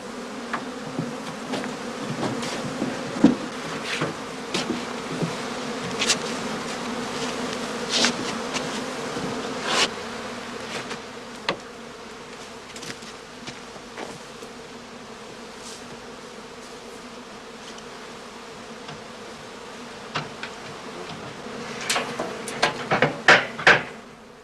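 Honey bees buzz continuously around straw skep hives on outstands, a dense swarm drone with scattered close passes and occasional knocks and clinks.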